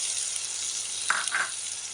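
Garlic paste goes into onions frying in a pan, with a steady hissing sizzle and a couple of brief sharper spatters partway through.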